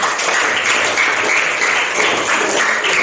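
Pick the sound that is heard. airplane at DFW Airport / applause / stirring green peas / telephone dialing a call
applause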